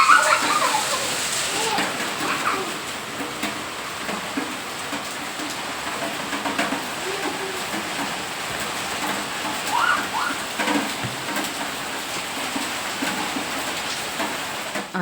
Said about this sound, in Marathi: पण मग तो इतका पाऊस आला का खूपच पाऊस आला